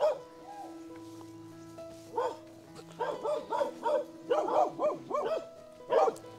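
A dog barks close by in a quick, uneven string of loud barks, starting with a single bark, then a burst of several in a row after a short pause, over a low steady background hum.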